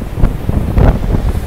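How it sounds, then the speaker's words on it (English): Wind gusts buffet a microphone at the beach, a low rumbling roar that swells and dips over a brief moment, close and fairly loud with no voices. "Probably hear the wind"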